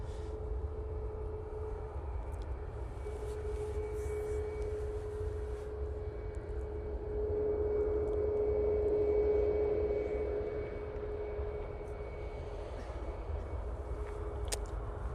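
A Pegasus Airlines plane passes at Manchester Airport, a soft continuous jet rumble with a steady tonal hum that swells gently to a peak midway and then fades, fairly distant and with no talk.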